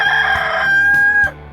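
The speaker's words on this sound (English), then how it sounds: "Chickens." A rooster crows close and loud, one drawn-out call with a bright steady tone, while nearby chickens cluck in short bursts around it.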